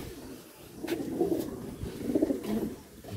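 A black-eyed desi pigeon, freshly caught, gives two soft, low cooing phrases close by, the second a little fuller than the first, with no other voices present.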